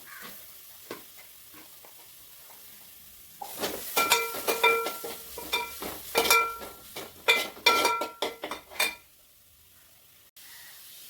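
Onions and crushed shallots sizzle in a hot pan for a beef stew, following a quiet start, with a metal spoon scraping and clinking in irregular bursts of stirring.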